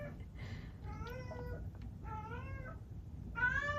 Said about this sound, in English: do we all hear the meowing?